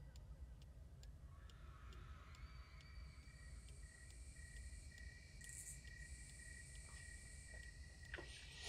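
Crickets chirp at night in a Russian village setting within a video game, a faint, steady high-pitched trill with regular ticking pulses, quiet and continuous with no voices.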